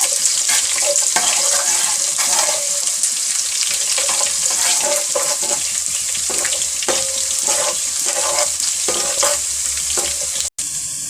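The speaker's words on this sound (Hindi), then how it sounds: "ये देखिए प्याज फ्राई हो गई है।" Steady, crackling sizzle of onions frying golden in hot oil, with occasional stirring scrapes, no voices.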